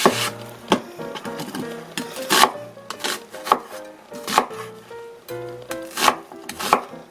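A knife chops through onion on a cutting board, with rhythmic, evenly spaced thuds near the listener and no voices.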